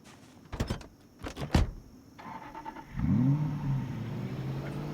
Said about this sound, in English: the engine quality of this car is relatively high, which means that it isn't so loud